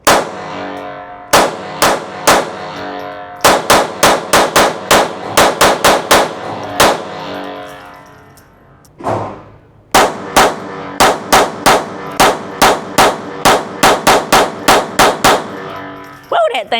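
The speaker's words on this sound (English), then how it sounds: "So let's shoot a few more rounds and let's get that FRT out." A Taurus TX22 .22 pistol fired with an FRT, sharp loud close-range cracks in quick, rapid-fire strings broken by short pauses, about thirty shots in all.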